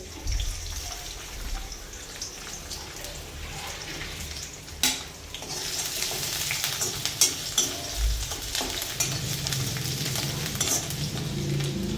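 Chopped garlic sizzles steadily in hot oil in a pan, with stirring scrapes and clinks over the frying hiss, close and continuous, and no talking.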